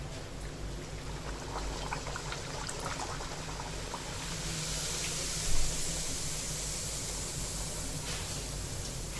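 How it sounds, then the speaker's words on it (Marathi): Puris frying in hot oil in a kitchen give a steady, dense bubbling sizzle that carries on evenly throughout, with one brief louder splash partway through and no talking. "तळून घेते आता पुऱ्या"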